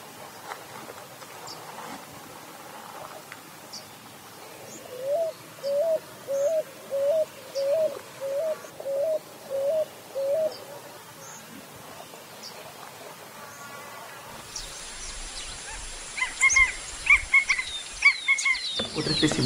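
Picui ground dove calling in central Chile, a run of about ten evenly spaced soft coos with rising inflections, fairly close, followed by quiet background and other faint bird calls.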